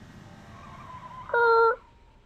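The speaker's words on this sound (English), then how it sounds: "I hear a car." A short, bright horn-like honk from a car in the video game Final Fantasy XIV sounds once, clear and steady for under half a second over a quiet game background.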